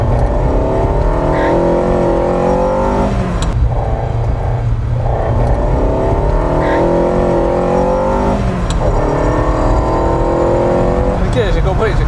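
A Ferrari 308 GTB with a V8 engine drives at moderate speed, the engine droning loudly from inside the car and rising in pitch through gear changes, with people talking over it.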